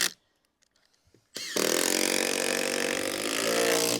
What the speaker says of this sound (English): when I screw this, I'm going to put 4 screws in each timber